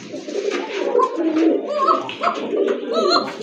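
Pigeons coo repeatedly at a pigeon market selling local and foreign breeds, overlapping throaty calls close by and fairly loud, with no speech over them.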